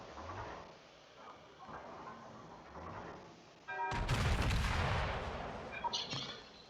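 A warship's guns fire a volley in a naval battle video game, with a sudden loud blast and crackling roar that follows a stretch of quieter sounds, then sharp secondary booms trail off.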